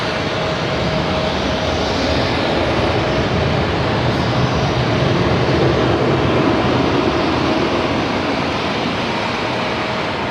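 An airliner taking off from runway 25 right at Los Angeles International Airport, a loud, continuous broadband jet roar sustained for ten seconds without letup, with no voices heard.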